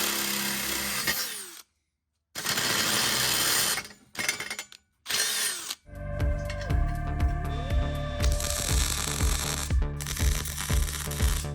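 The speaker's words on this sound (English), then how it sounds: "I'll just drill out a hole here and weld in a new bung" A power drill whines in several bursts with brief pauses, then grinds steadily with a rhythmic chattering as it bites into the metal of a 1974 Corvette's exhaust.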